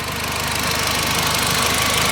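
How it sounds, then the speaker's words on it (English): A 2002 Audi TT's 5V turbocharged inline-four with dual overhead cams and an aftermarket intake runs at a steady idle, a continuous close engine drone with a faint rhythmic knock underneath and no talking. "It is the 5V Turbo Inline 4."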